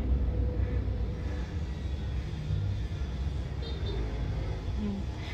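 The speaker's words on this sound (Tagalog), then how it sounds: "Walang problema, maganda yung tunog ng makina" A Suzuki mini van engine idling steadily, a low continuous rumble with faint mechanical hum, close and moderately loud, no clear talk over it.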